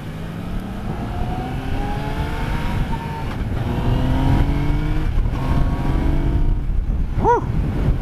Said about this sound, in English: I love Yamaha's three-cylinder motor.